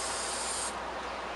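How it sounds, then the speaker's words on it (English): A spray can of paint hisses onto a guitar body during a two-tone sunburst finish, one steady close hiss that thins partway through as the nozzle eases off, no talking. "I pass over the body and then stop the spray."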